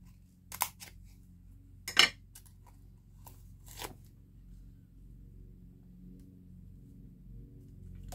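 Scissors cut paper pieces for a Halloween card, making about five crisp, close snips spaced irregularly over a quiet background, then a stretch of near silence.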